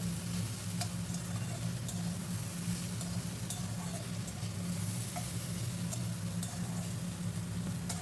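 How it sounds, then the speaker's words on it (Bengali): Bitter gourd and potato stir-frying in a pan, a continuous close sizzle with a low steady hum underneath and occasional light ticks of stirring, even in level throughout. "এখন আবারও একটু ভাজা করে নিচ্ছি নাড়াচাড়া করে"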